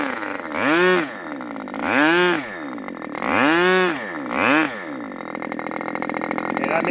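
A small HB 61 model engine runs at low speed during carburetor tuning, its pitch rising and falling in four rev swells over a steady idle drone, close and loud.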